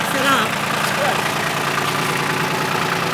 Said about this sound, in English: The tractor's a little loud.